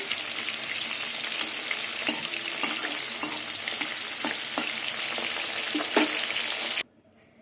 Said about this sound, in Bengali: এবার মাছগুলো তেলে ভেজে নেব